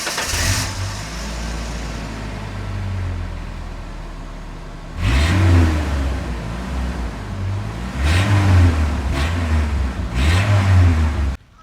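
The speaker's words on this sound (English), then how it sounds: "this is going to be a sound clip of how the engine sounds" A Ford Ranger pickup's four-cylinder engine idles with a low steady rumble, then is revved three times in quick bursts that rise and fall, loud and close.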